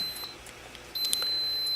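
An alarm beeps on a PLC temperature controller control box, a steady high-pitched electronic tone with brief louder bleeps, heard close and alone.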